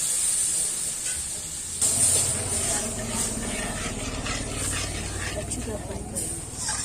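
Yogurt hits a hot pan of suran (elephant foot yam) curry with a loud, steady hissing sizzle that swells and briefly eases before flaring again, close up, while a voice talks over it.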